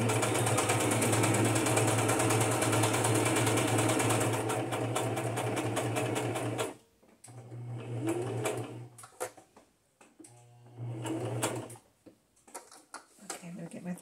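A sewing machine stitches pink thread onto junk journal cards, running in a long steady whirring burst, then stopping and restarting in shorter runs with quiet pauses between, close by.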